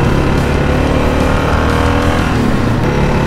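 An old motorcycle engine running with heavy vibration, a loud, steady droning rumble that stays up close and constant throughout while riding a mountain road.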